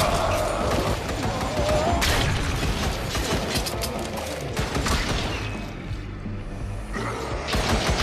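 Shotgun and pistol fire in the VR zombie shooter Zombieland: Headshot Fever, steady and loud with repeated close shots and mechanical clatter over a busy game background, easing slightly near the end.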